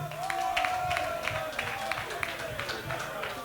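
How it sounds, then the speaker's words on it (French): An audience at a talent show finale applauds in steady, moderately loud clapping that fades slightly over the few seconds, with a voice faintly audible underneath. "Applaudissez encore pour lui."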